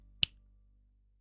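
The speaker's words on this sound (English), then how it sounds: "I'm snapping my fingers." One crisp finger snap, sharp and close, followed by silence.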